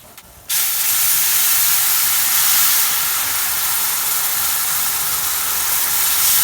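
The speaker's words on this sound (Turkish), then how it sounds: "bir miktar kavurduktan sonra suyunu ilave ediyoruz" Water poured into a hot pan while making kuymak sets off an abrupt, loud hissing sizzle after a brief quiet start, holding steady and close to the end with no talking.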